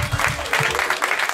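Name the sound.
audience applause at stand-up comedy show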